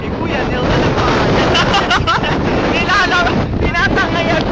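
Strong typhoon wind buffets the camera microphone in a loud, continuous roar near a body of water, with people talking and calling out over it throughout.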